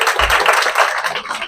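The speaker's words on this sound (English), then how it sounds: "Round of applause, please." Students in a classroom giving a round of applause, a brief burst of dense, loud clapping close by that fades out after about a second and a half.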